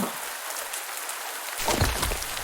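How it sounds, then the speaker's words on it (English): Rain patters down inside a cave in the video game Pumpkin Days, a steady hiss of drops that grows denser and louder partway through, with no talk over it. "I'm getting rained on in the cave."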